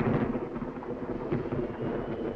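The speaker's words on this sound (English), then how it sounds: "Away from the thunder." Thunder rolls with steady rain in a 1943 Sherlock Holmes crime film, a continuous loud rumble and hiss filling the whole stretch with no voices.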